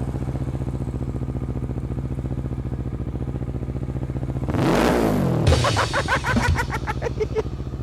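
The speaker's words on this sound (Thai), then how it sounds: "เราเบิ้ลเหมือนคนขับรถไม่เป็นอ่ะ ดีจะเบิ้ลก็เบิ้ลเลย" A Kawasaki ER6N 650cc twin-cylinder motorcycle idles with a steady rumble, then the throttle is blipped into a sharp rising rev and a burst of quick crackling revs before it settles back to idle, close and loud.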